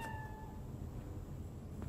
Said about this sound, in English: Whoa, is that cat?